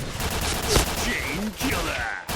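Rapid bursts of gunfire from a new gun in an online shooter game, loud and dense over about two seconds, with brief voice fragments in between.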